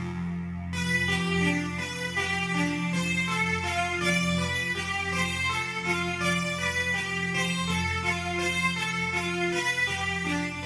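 Synthesizer playing the triplet-based pattern from the solo of a song, a bright, sustained, steady run of repeating chords that fills the whole stretch at even loudness with no talking.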